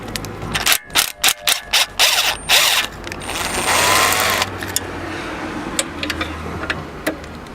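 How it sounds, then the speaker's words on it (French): A small impact wrench rattles in short loud bursts while loosening the oil pan bolts on a Ford S-Max 1.8 TDCi, several quick hammering blasts followed by a longer run, then quieter ratchety handling noises. "Très pratique ces petites clés à choc."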